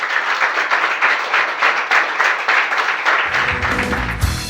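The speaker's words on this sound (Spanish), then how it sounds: "den un aplauso al Señor" A church congregation claps for the Lord in a dense, pulsing wave of applause with a steady rhythm, loud and close, before it breaks off and a musical tone rises at the end.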